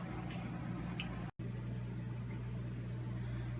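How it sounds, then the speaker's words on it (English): An electric fan runs beside a crate of drying substrate, giving a steady low hum with a faint whirring layer above it. The sound cuts out for a split second, then resumes unchanged. "now I'll just stick the fan on"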